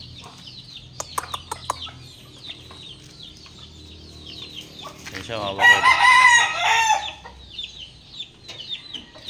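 Chickens cluck nearby with sharp clicks, then a rooster crows loudly and long; someone speaks briefly at the start.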